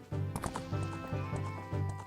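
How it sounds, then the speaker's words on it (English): Epona, the horse in Zelda: Ocarina of Time 3D, galloping in quick rhythmic bursts of hoofbeats, clear and close with no talk over it. "Now we get to keep the powerful Epona. Speediest horse of Hyrule."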